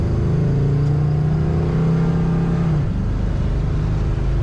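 A 1973 Ford Mustang Mach 1 with an automatic transmission accelerates, its engine note a steady, loud rising drone that holds for nearly three seconds before dropping off into a lower rumble with no talk.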